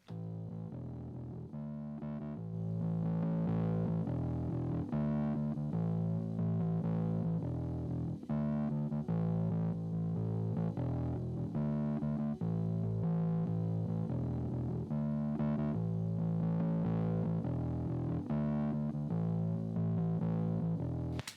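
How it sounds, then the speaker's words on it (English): A distorted, gritty bass line plays a repeating riff in steady rhythm, loud and sustained throughout with no voices. "we're adding a distortion plugin afterwards"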